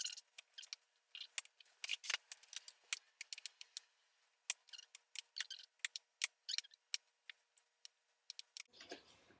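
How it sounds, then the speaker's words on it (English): A knife dices a peeled potato on a board in quick, light, irregular taps and clicks, with a short pause midway and a soft rustle at the end. "after you peel the potato, then we're going to slice it, dice it, or slice it,"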